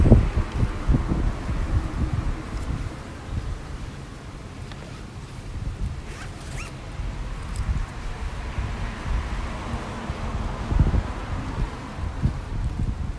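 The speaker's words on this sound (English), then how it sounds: "It's windy." Steady gusts of wind buffet the microphone, with a low rumbling roar and faint rustling rising and falling throughout.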